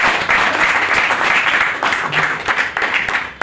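Sustained audience applause at a training seminar in Burari, North East Delhi, a dense steady roar of many hands clapping together throughout, loud and close with no break.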